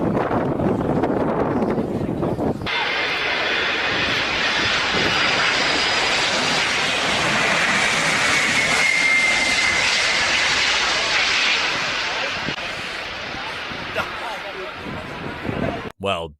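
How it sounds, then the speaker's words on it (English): An Antonov An-225 comes in for a crosswind landing, its engines producing a loud, steady roar mixed with rushing wind noise that holds for most of the stretch before cutting off abruptly. "Let's see how this pilot handles the landing of the Antonov 225."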